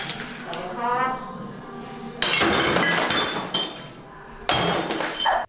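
A crowbar smashes objects in a rage room: two loud crashes of breaking glass and shattering clutter land a couple of seconds apart over a rumbling background.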